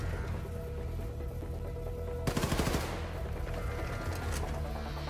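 Rapid automatic gunfire in the Wolfenstein II video game, a sudden burst of quick shots cutting through a steady, dense game soundscape and fading back into the mix.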